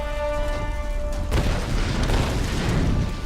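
A deep explosion boom in Tomb Raider: Definitive Edition cuts off a steady tonal hum and leaves a loud, low rumble rolling on afterward.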